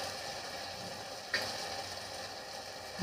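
Spices fry in a pan with ginger paste, a steady close sizzle running throughout, with a brief scrape of stirring partway through and another at the end.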